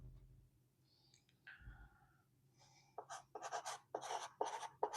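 Marker or chalk writing statements on a board during an atomic-structure lecture, scratchy strokes that start faint and grow louder in short bursts, with no talking.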